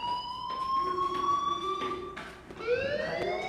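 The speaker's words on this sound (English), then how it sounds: "Hey, do you hear that fire alarm?" A fire alarm rings in the Life is Strange video game, sounding as repeated rising electronic whoops at a moderate, steady level that pause briefly before starting again.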